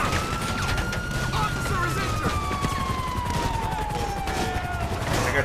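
Gunshots ring out in Grand Theft Auto 5 over a dense, steady game soundscape with a siren-like tone gliding slowly downward, the shots scattered sharp cracks rather than clean bursts.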